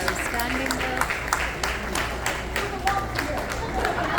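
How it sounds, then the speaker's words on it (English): An audience at a Mother's Day gala applauds, with a dense wash of clapping mixed with crowd noise and voices through the short stretch. "please everyone a big round of applause"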